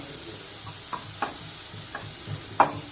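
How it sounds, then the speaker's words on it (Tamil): Minced garlic sautés in a pan for white sauce pasta, giving a quiet, steady sizzle broken by a handful of sharp spoon taps and scrapes. "பூண்டு வந்து சேர்த்துக்கலாம். கொஞ்சம் நல்லா வதங்கணும்."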